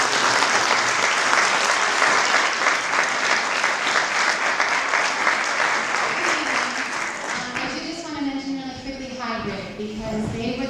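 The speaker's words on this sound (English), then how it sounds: "give a round of applause to Leona for her work" Sustained applause from an audience at a community arts center celebration honoring Leona, broad and steady for about seven seconds before thinning out while a voice begins speaking over the fading claps.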